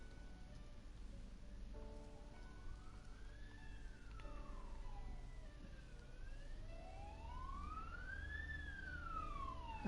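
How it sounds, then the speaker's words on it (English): An emergency vehicle siren wails outside, its pitch sweeping slowly up and down in long cycles, moderately distant over a steady background hum. "And now there's a siren on outside."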